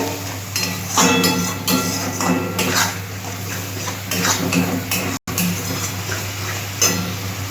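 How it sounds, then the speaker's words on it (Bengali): A spatula clinks and scrapes steadily against a pan while spice paste is cooked down for a Bengali bottle gourd and egg curry, with a low hum behind it and one brief dropout. "অল্প একটু জল দিলাম আমি এবার মশলাটা কষিয়ে নেবো"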